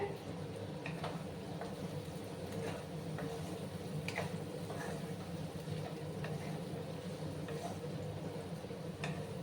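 Noodles with salt being stirred in a pan over low gas heat, soft frying hiss with light scraping and tapping clicks from the spatula at irregular intervals, faint and close.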